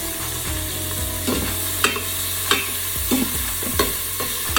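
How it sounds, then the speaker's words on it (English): Bacon sautéing in a pot for keto chicken soup, a steady close sizzle with scraping stir strokes and clinks of the utensil against the pot at irregular intervals. "once we get this bacon sauteed up, we will also saute up the onion"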